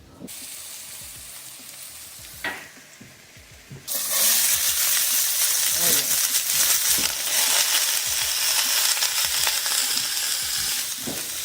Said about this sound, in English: So we're going to saute cabbage with ginger, a little bit of ginger, and garlic